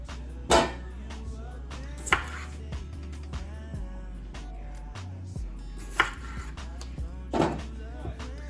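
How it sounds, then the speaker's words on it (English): A knife chops potatoes into quarters on a cutting board in a home kitchen: a handful of sharp, separated thunks at irregular intervals, close and fairly quiet over low background hum. "cut them in fours like that"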